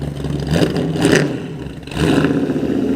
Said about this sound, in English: Ground vibrating with the rumble of the V8.